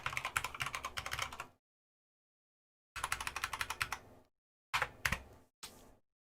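Rapid clicking keystrokes on a computer keyboard come in several close bursts separated by silent pauses, the first bursts longer and the last ones short.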